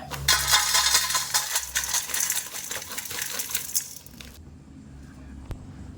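Crispy fried raw banana mixture tipped into a basin, a loud close cascade of dry rattling pieces for about four seconds, then quiet with one small final clink.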